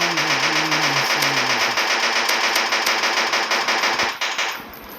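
Rapid automatic gunfire in a shooting video game: a fast, evenly spaced stream of loud shots rattles continuously for about four seconds, then cuts off, with a low sliding game tone at the start.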